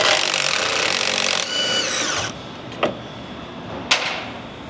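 A power impact tool buzzes continuously, backing off a fuel tank strap bolt on a 1999-2010 Ford Super Duty, then stops, followed by two sharp metallic clunks.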